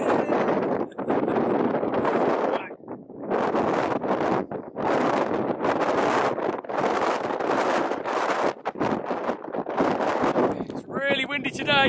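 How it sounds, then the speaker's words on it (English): Strong gusts buffet the microphone in heavy, rumbling bursts that come and go, nearly drowning out occasional speech, at a campsite on Bamford and Stanage Edge. "It's really windy today."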